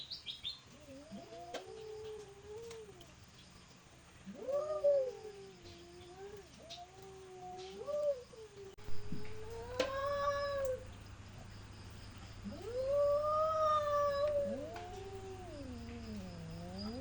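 Two cats fighting, a neighbour's cat attacking a resident cat: repeated drawn-out yowls and moaning howls rise and fall in long bouts, loud and close, with short gaps between them.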